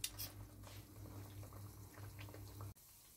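Spoonfuls of potato, tuna and surimi batter fry in a pan of hot oil, a soft steady sizzle and bubbling close by that stops abruptly near the end.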